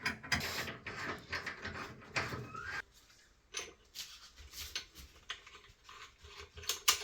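Hose connections on a freeze dryer's vacuum pump are hand-tightened, producing close, quiet clicks, ratcheting and scraping of threaded fittings in irregular bursts with a short pause in the middle.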